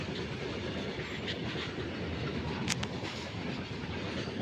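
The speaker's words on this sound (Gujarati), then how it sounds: "તો ટ્રેન આવું ટ્રેન જાય છે." Train passing along a railway track beside a countryside shrine, a steady loud rumble of wagons with rhythmic wheel clatter and a brief high squeal near the middle, no voices.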